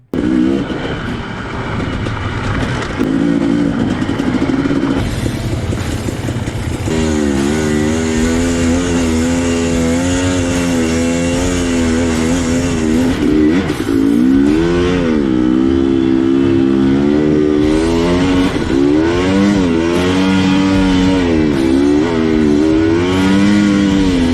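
A KTM 250 two-stroke motorcycle geared 12/50 revs loudly in second gear, with engine tones rising and falling quickly in short repeated bursts through the whole stretch, no speech.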